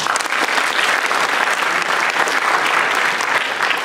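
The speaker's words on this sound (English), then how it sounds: "Give him a warm applause." Audience applause at a PyCon PL Python conference lightning talks session, a dense, steady burst of many hands clapping that fills the room loudly from start to finish.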